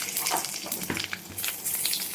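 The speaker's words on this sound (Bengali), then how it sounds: "তেল আছে কড়াতে, দিয়ে দিলাম দিকে কালো জিরে ফোড়ন, দিয়ে দিলাম তেজপাতা" Nigella seeds and a bay leaf crackle in hot oil in a kadai as the base of a hilsa fish curry is started, making a steady, close, gentle sizzle with faint pops throughout.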